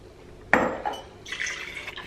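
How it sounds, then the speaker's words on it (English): Water poured into a glass at home: a sharp clink of glass, then a brief splash followed by a rising, bubbling fill that continues for under a second, close and fairly quiet. "I'm gonna have a glass of water before I have a shower."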